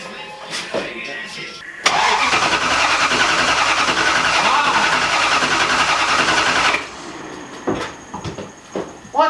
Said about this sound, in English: Keep cranking, I might just need, To burn all that fuel?